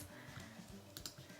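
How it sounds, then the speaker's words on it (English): Soft clicking of a computer keyboard, a handful of quick keystrokes close by at low volume with a brief cluster of sharper taps near the end. "I'm going to type blessings"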